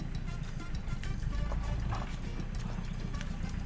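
A horse's hooves clip-clop at a walk on a rural path, a steady uneven patter under low rumbling background noise, moderately close with no clear talk.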